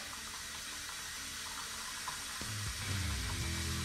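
A steady, hissing rush of water pours from an RV faucet as air is purged from the lines, growing fuller and lower toward the end as the flow shifts.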